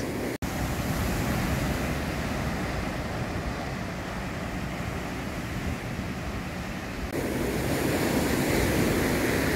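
Surf pounds a steep, coarse-sand beach in central Ubatuba, Brazil, a continuous loud roar of breaking waves with wind buffeting the microphone and the wash swelling louder near the end.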